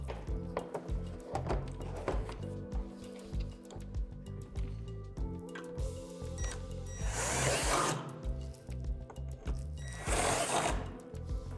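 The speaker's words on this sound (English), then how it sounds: "drilling it out with a 3/8 drill bit" A 3/8 drill bit bores through a plastic barrier on a playset tower, the drill whirring in steady bursts with two louder, harsher grinding surges as the bit cuts through, alone without voices.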